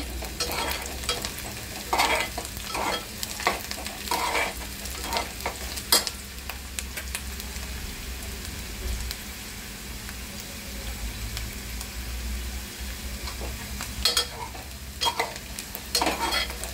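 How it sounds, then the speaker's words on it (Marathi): Onion fries in a pan until reddish, giving a steady close sizzle with scattered utensil scrapes and taps from stirring throughout; no talking. "कांदा लालसर होईपर्यंत भाजायचा थोडासा।"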